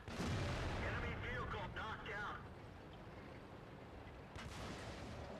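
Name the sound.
artillery fire in World of Tanks, video game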